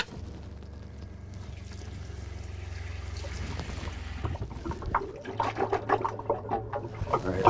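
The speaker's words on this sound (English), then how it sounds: "That's our gulper pump." An RV gulper waste pump runs with a steady low drone that cuts out, then restarts with rhythmic pulsing, gurgling water, fairly close and loud with no talking.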